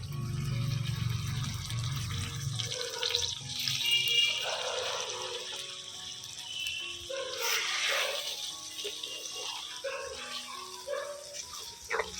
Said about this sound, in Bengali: ওই দইয়ের বাটি ধোয়া এই এতটুকু জল দিয়ে দেবো আমি।